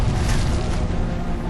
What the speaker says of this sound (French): C'était quoi cette explosion?